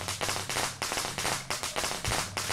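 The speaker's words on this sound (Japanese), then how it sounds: "他の徘徊者が来たらまずいんだよね、爆竹使うときって。" A thrown firecracker in the Shadow Corridor horror game crackles as a rapid, loud string of sharp pops, evenly spaced and close, with no talking over it.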